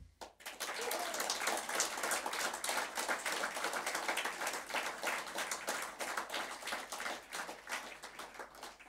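Sustained applause from a large audience at a political Ash Wednesday rally in Passau, many hands clapping densely and steadily for several seconds, loud and fairly close, no talk over it.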